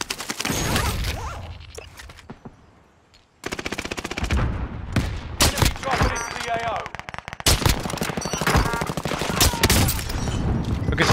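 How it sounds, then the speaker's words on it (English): Sniper and other gunfire in Call of Duty: Warzone, dense rapid cracks and bursts with one near-silent gap early on, while a voice talks over the shooting. "Just shooting with my sniper over here."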